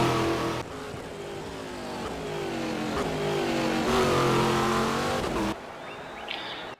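Onboard roar of a Brazilian Stock Car racing engine in the Game Stock Car sim at Ribeirão Preto, loud and close, climbing through the revs in rising sweeps before abruptly cutting to a quieter lift-off.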